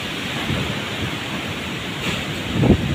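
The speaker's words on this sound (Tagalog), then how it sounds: "grabe yung alon guys" Big ocean waves wash onto the shore in a continuous, close roar with heavy wind buffeting the microphone and a louder surge near the end.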